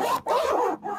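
A zipper on a Nexus bowling backpack is pulled in two or three close, raspy strokes with brief pauses between them, heard up close and at a fairly loud level.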